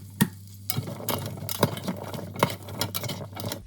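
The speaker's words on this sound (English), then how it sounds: "I've already melted butter and I'm going to send butternut squash to saute until it turns golden" Butternut squash sautés in melted butter, a soft steady sizzle with scattered crackles and several sharper clicks of a utensil stirring against the pan, fairly close and with no talking.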